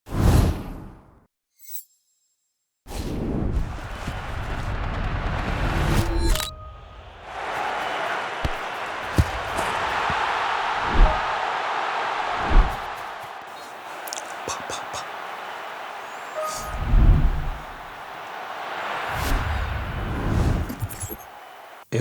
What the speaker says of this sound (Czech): přidal jsem tam vlastně spoustu riserů, Airwoosh nevím jak se to čte, jsem tam přidal. Jsou tam ti fanoušci slyšet.